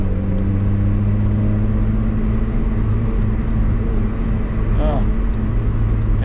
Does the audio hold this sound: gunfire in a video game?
no